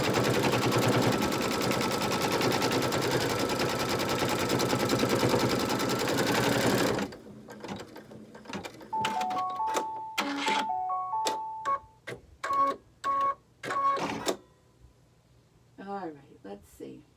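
An embroidery machine stitching a placemat runs in a loud steady whir for about seven seconds, then stops, followed by a series of short electronic beeps and clicks, with a voice speaking.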